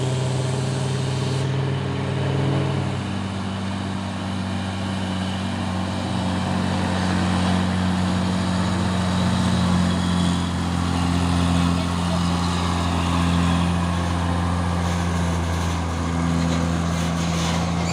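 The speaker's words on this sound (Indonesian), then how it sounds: "dan ini ada lagi satu truk trailer Hino Lohan ini ya" A Hino trailer truck engine rumbles steadily nearby with a deep, continuous low hum and steady tonal drone, while a voice talks intermittently over it.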